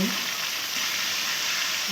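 Onion and ground spices fry in hot oil, giving a dense, even, close sizzle that runs unbroken for two seconds with no voices.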